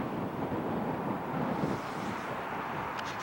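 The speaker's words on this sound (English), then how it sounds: "A little windy out, a little chilly today." Steady wind rushes and buffets against the microphone outdoors, a broad dull roar with no voices.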